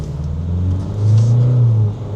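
An Isuzu D-Max with the new 2.2-litre engine pulls away hard from a standstill, its engine a steady low rumble that swells as it accelerates, heard from inside the cab with no talking.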